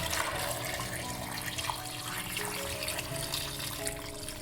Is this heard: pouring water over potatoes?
yes